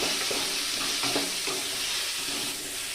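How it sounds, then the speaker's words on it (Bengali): Malabar spinach curry stirred with salt and turmeric in a hot pan, a dense continuous sizzle with a few soft scraping strokes of the spoon, close and loud, with no talking. "পরিমাণ মতো লবণ হলুদ দিয়ে আবার একটু নেড়ে চেড়ে নেব"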